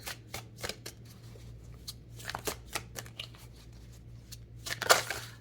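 A deck of tarot or oracle cards being shuffled during a reading, giving quick papery riffles and soft flutters in bursts across a few seconds, fairly quiet and close, with a sharper snap of cards near the end.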